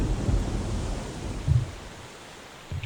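Rain and thunder in the video game EverQuest, a steady broadband hiss of rainfall broken by low rumbling thunder swells, with one rumble near the start, another midway and a third at the end, with no talking.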